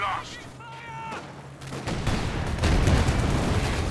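Gunfire in a World War II tank battle video game, a dense stretch of booming shots and explosions rolling on continuously while someone commentates over them.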